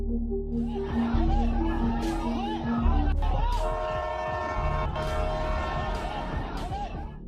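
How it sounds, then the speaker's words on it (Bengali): A crowded train at a railway station rumbles beside the platform as a long tonal horn sounds, with a dense hubbub of voices and some laughter from the packed crowd throughout. "এবার দেখুন এক রেলওয়ে স্টেশনের ভয়ানক দৃশ্য ট্রেনে ভয়ানক ভিড়"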